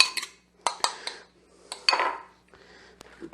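An egg being lightly beaten in a bowl with a fork, scattered sharp clinks and scrapes of metal against the dish in brief irregular bursts, close and alone.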